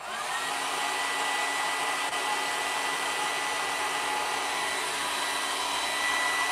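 A hair dryer runs steadily at close range, blowing over freshly finished fireplace mantel pieces in a basement, a continuous loud whir with no pauses.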